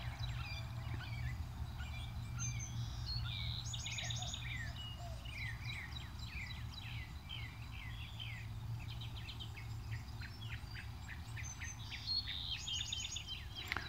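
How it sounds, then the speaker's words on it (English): Many small birds chirp and trill in quick, repeated bursts across a warm, calm, dry evening at sunset, with a steady low rumble of background noise underneath. "That bird chirping is about as good a story as you're going to get."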